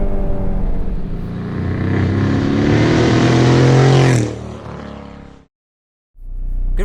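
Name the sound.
1991 Nissan Sentra SE-R engine revving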